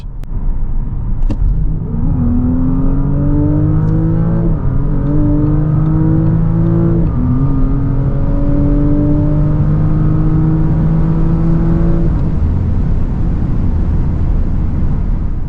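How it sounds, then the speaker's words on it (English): Audi RS5 sedan with 640 hp pulling hard from 100 to 200 km/h on the Autobahn, its engine droning loud and steady with rising pitch through two quick gear shifts, heard from inside the cabin over constant road and wind roar. "Let's see how fast this car goes 100 to 200."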